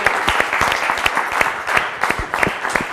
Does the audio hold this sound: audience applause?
yes